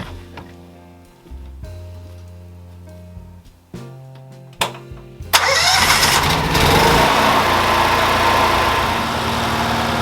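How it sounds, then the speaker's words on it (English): A camp generator cranks over a few times, then catches and roars into a loud, steady running drone that carries on without pause. "We'll let it warm up a couple minutes before we turn the breaker on, but you can hear how loud that is."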